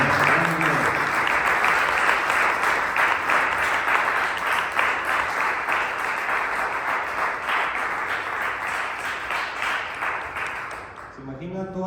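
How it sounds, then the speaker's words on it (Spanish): A church congregation applauds for nearly twelve seconds, a dense, steady wash of many hands clapping. Near the end the applause fades and a voice comes in. "Denle un aplauso a Cristo, hermanos."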